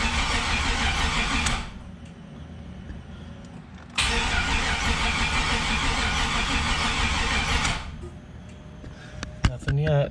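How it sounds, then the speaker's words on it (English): An LS engine in an RX-8 is cranked on its first start attempt, with two long bursts of steady starter whirring separated by a short pause, fairly close and moderate in level, followed by a brief clatter as it stops. "tempted to give her a crank over. See if she fires."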